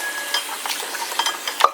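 A cooking pot being washed, with scattered scraping, scrubbing and light clinks of metal, close and irregular, and no talking.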